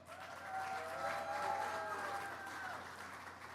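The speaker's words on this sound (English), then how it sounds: "I'd like to ask for a round of applause for all the people who worked on that project." Audience at a live Transportation Secretary event on Amtrak and DC Union Station breaks into a few seconds of steady applause from a crowd, swelling slightly then holding, with faint voices underneath.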